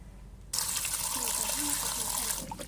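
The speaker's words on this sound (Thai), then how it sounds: "เดี๋ยวเอาฟักทอง ทั้งหมดนี้ไปล้างนะคะเดี๋ยวล้าง ล้างผ่าน น้ำเฉยๆนะคะ" Tap water gushing steadily over pumpkin pieces being rinsed in a kitchen sink, starting abruptly and running as a broad hiss for about two seconds before easing off.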